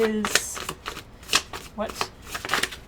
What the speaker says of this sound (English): Alright, I'm going to shuffle up one more time.